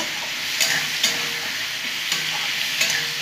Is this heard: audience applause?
no